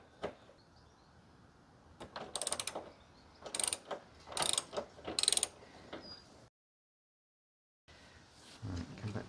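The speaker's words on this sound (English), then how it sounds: "I've got the perfect tool for this, a ratcheting flexi bar." A ratcheting flexi bar turns bolts on a Fiat Bravo T-Jet engine mount, giving several close bursts of rapid clicking separated by pauses and one brief silent gap.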